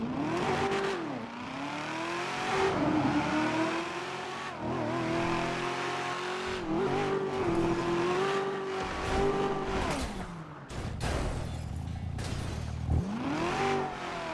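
A Chevrolet Camaro in GTA 5 revs hard and accelerates, its engine pitch rising and falling through gear changes, with occasional tire squeal, loud and continuous with no talk.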